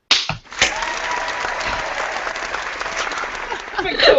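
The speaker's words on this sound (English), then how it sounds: "That might be the best clap sync we've ever had." A sharp hand clap for recording sync, made by podcast hosts, cracks out right at the start, then a dense, steady clatter of noise carries on for several seconds before swelling slightly at the end.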